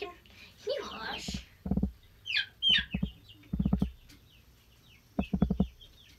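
Chickens cluck in repeated short pulsed bursts, fairly close and loud, while a person talks over and between them.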